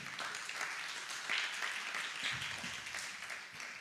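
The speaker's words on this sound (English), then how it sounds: "Clap for him." After a speaker at a youth sustainable development goals forum, an audience gives a short round of applause, fairly faint and distant, steady clapping for a few seconds.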